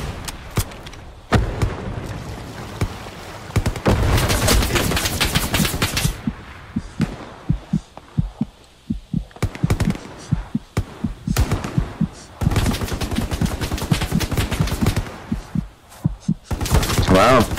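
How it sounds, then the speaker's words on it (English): Gunfire from teammates hits the player in the World War II shooter Hell Let Loose: bursts of rapid automatic fire alternate with stretches of sharp single thumping shots, loud and close, with a voice talking at points. "Getting shot by teammates."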